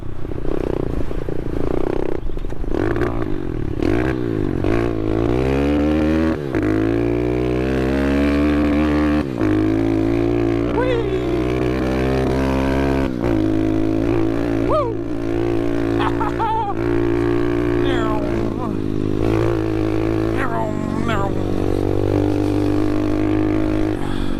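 Small pit bike engine, from a build including SSR70, SSR125 and SSR140 models, revving hard while climbing a hill, with rising and falling pitch through gear changes, loud and continuous throughout.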